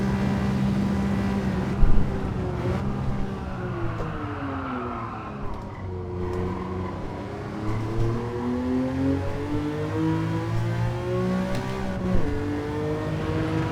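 A Ferrari Dino engine in Gran Turismo 7 on the Sardegna circuit revs up and down through gear changes, its pitch rising and falling in repeated sweeps, loud and close with no talk.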